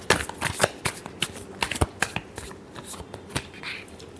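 Tarot cards are shuffled by hand in a quick series of crisp riffling bursts and soft slaps, close and clear, with short pauses between strokes and no talking.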